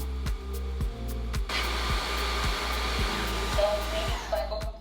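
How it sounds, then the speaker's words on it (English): Tineco Floor One S5 cordless vacuum mop running its self-cleaning cycle on the roller brush and dirty water channel: a loud steady motor whine with regular low mechanical ticks, rising into a brighter whir partway through. "And this function cleans the roller brush and dirty water channel."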